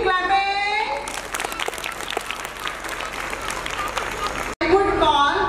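A lively crowd applauds at a school welcome ceremony for honored guests, dense sustained clapping mid-clip, with a voice speaking over a tonal background before and after the burst.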